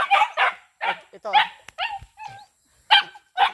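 Several dogs bark in short, noisy bursts that come one after another, mixed with yips and whimpers, while someone talks to them over the racket.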